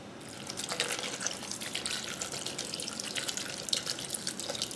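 Harmless Harvest coconut water pours into a blender for a smoothie, a close, bubbling, splashing stream with uneven gurgles that runs continuously at moderate loudness, with no talking.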